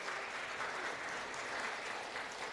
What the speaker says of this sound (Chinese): 我们再次热烈掌声